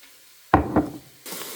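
Onion and carrot frying in a pan with salt, black pepper, garlic powder and turmeric, a close thump as something lands followed by soft sizzling, then a brighter burst of hiss near the end.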